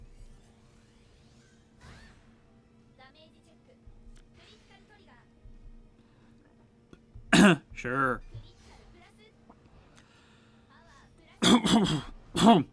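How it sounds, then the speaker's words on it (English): A person coughs and clears their throat in two loud clusters, separated by several seconds of near quiet, with a brief spoken word in between. "Coughing up a storm over here, apparently."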